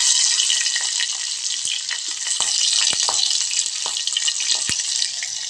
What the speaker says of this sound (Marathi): मिरच्या ज्या आहेत मी टाकलेल्या त्या छान व्यवस्थित तळत आहेत